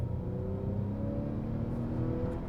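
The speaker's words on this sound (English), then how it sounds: "the turbocharger comes on very early, but it sounds incredibly unrefined" A 2021 Acura TLX A-Spec sport sedan's turbocharged engine pulls under acceleration, a moderately quiet rising drone heard from inside the cabin, with engine tones climbing steadily and no talking.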